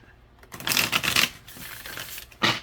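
A deck of cards riffles in a quick flurry, then a short pause and another brief riffle, close and crisp.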